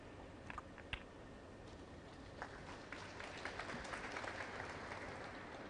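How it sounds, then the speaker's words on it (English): Audience applause at a snooker match in the Haikou World Snooker Open 2013 final, a soft, steady patter of clapping from a distant crowd, fairly faint, with a few sharper claps near the start. "Well, applause, but it's not frame ball yet."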